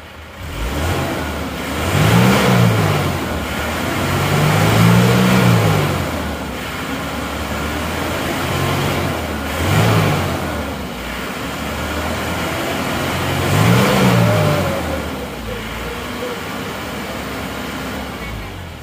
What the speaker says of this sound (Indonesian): Mesin sudah temperatur kerja. Ini akan saya gas-gas asap knalpotnya bagaimana.